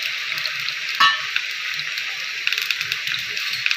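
Garlic cloves, cumin, mustard seeds and curry leaves hit hot oil in a pan, setting off a loud steady sizzle with scattered pops and crackles close by, with a faint voice underneath.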